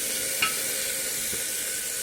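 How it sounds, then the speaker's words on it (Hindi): Potatoes frying in a pan for a drumstick curry made without onion or garlic, a steady, even sizzle with one faint stir clink. "आलू को हम थोड़ी देर भूनेंगे।"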